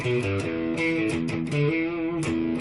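Electric guitar playing a riff at full speed, a run of clear, sustained distorted notes with hammer-ons, loud and alone.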